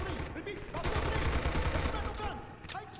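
Gunfire in Red Orchestra 2, a dense run of shots and booms at close range across the whole stretch, with a sharper crack near the end and brief voice activity mixed in.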